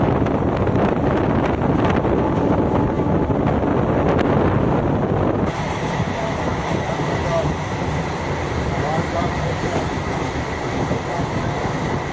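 A train rumbles along steadily with clattering wheels and wind buffeting the microphone; the tone shifts partway through as the rolling noise continues.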